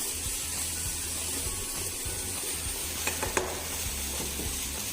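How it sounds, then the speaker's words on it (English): A sautéed mixture sizzles steadily in a pan while being stirred, a continuous close frying hiss with a few faint scrapes near the end. "Give it a nice stir."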